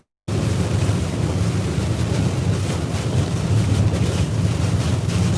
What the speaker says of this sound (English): the winds are hitting the windshield